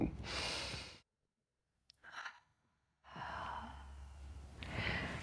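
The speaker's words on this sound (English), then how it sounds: "Taking a nice deep breath in and out." A slow, deep breath drawn in and let out during a relaxation moment, heard as two long airy breath sounds separated by a short quiet gap, close and soft with no talk.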